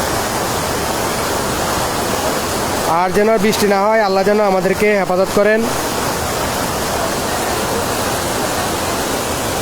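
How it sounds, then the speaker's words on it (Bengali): Floodwater in Feni rushes toward the sea as a loud, constant broadband roar; someone speaks briefly over it in the middle. "আমরা দেখছি যে এদিক দিয়ে পানি চলে যাবে সমুদ্রের দিকে।"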